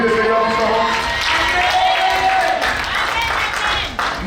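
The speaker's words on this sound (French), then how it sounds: "On va applaudir le Seigneur" A worship congregation claps together, a broad steady wash of applause with voices mixed in that holds at one level through the whole stretch.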